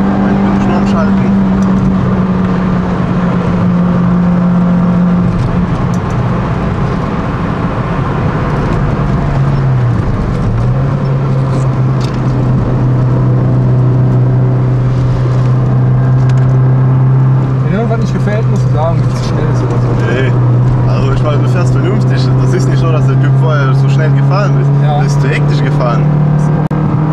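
Interior engine drone of a car lapping a race track, loud and continuous, its pitch dipping as gears are shifted near the middle then climbing steadily, with someone talking over it.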